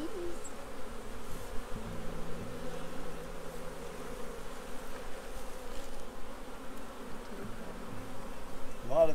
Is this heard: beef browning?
no